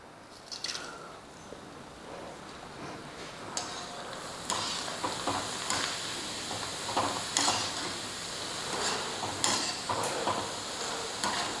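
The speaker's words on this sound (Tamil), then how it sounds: "நான் ஒவ்வொன்றா எடுத்து நான் உங்களுக்கு பொறிச்சு காமிக்கிறேன்" Sago vadagam crisps fry in hot oil with a steady crackling sizzle and a few sharper bursts as pieces are added and turned, sounding close and fairly loud throughout.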